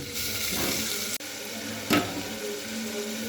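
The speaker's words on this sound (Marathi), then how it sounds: "गरम पाणी डाळीमध्ये घालायचं आता आपण यामध्ये धुतलेली डाळ घालूया" Hot water pours into lentils in a continuous hissing rush, with a sharp clink partway through and faint kitchen noise underneath.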